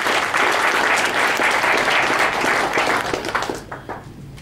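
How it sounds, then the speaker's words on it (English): Dense audience applause at a dinner event, loud and sustained from many hands, then tapering off and fading over the last second. "let's first of all give a huge round of applause to Rainy Endowed and to St. Stephen's"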